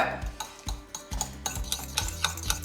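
Sushi bake ingredients being stirred together in a bowl with a utensil: a steady run of scraping, clicking strokes against the bowl, close and fairly quiet, with no talk.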